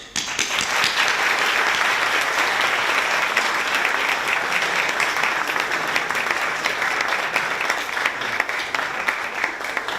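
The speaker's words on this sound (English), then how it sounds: "Please applaud." Sustained audience applause fills a hall at a Bar Ilan University scholarship ceremony honoring donors, dense steady clapping from a large crowd lasting throughout with no speech over it.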